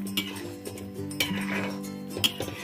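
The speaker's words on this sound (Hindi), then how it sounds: "दो मिनट के लिए ऐसे ही चलाएंगे ताकि पकौड़ी में सारा कढ़ी भर जाए" Besan kadhi with pakoras being stirred in a metal pot, the spoon scraping and clinking against the sides in steady irregular knocks over a low simmering hum.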